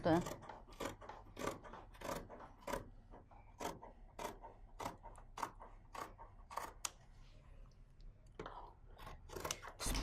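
Scissors snip through fabric while a one-piece turndown collar is cut without a pattern, giving a steady run of sharp, close cuts with brief pauses and faint background talk.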